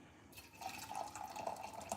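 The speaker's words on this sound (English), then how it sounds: "Like drizzle this in and stir it." Boiling water trickles and drips into a bowl of freshly milled flour, a soft, steady pour running for a couple of seconds, close by and fairly quiet.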